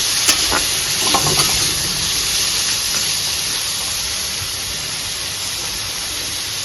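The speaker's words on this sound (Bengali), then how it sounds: "সবজিটা হালকা ভাজা হবে বেশি ভাজবো না" Vegetables with a little turmeric sizzle lightly in a hot pan with a steady, bright hiss, a few clinks of stirring near the start.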